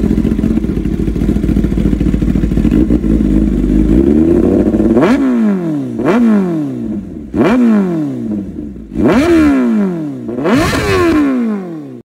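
A Kawasaki ZX-10R with a full-system exhaust idles loudly with a rough, low burble, then gets five sharp revs, each rising to a harsh, close scream and falling back, with no talking.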